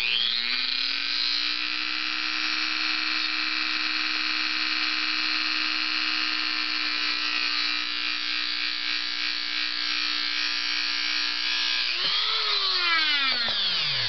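A small electric drill whines steadily for about twelve seconds while boring a tiny hole in a 1/43 scale slot car resting on a piece of wood, then slows and winds down.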